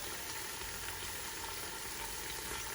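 Tomato base for jollof rice frying in a pot, a steady, faint hiss and bubbling sizzle with no break and no voices.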